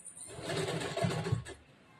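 A sewing machine stitches blouse fabric with lining underneath, a short, faint mechanical whir that rises and then stops after about a second and a half.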